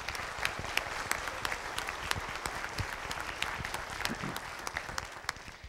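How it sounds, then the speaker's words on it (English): Church congregation clapping in a steady, moderately distant round of applause, many hands patting at an even pace with sharper individual claps standing out, no talk over it. "I think they should clap for that."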